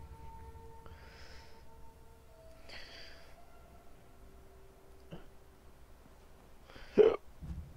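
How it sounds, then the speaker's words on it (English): Several hiccups in the video game Fallout 4, each a short abrupt burst spaced a couple of seconds apart over a quiet hum, with the last one loudest and sharpest. "God, I love the hiccups."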